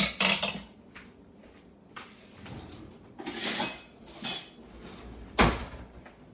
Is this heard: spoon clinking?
yes